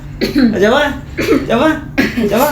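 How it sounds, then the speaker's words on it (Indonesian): Three short, throaty coughs or throat-clearing bursts in a row, close to the microphone and fairly loud. "Coba batuk, coba."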